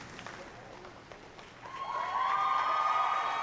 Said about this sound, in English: You hear her teammates cheering her on again